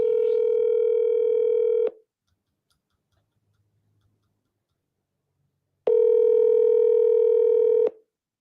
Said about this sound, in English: All right, I'm calling him back.